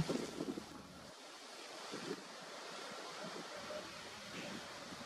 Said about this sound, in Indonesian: angin di sini memang cukup kencang